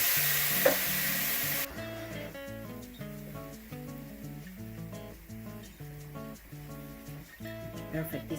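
Sofrito ingredients fry in about two tablespoons of annatto oil, a soft sizzle with stirring scrapes, fairly quiet beneath background music after a brief louder opening burst.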